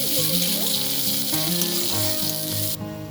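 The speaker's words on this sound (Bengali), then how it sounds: "এবার আমি এই তেলের মধ্যে কিছু একটা গোটা পেঁয়াজ দিয়ে দেব" Whole onion, dried red chillies and whole cumin sizzling loudly in hot oil for a Bengali chicken ghugni, a steady bright crackle with no talking that drops off abruptly near the end.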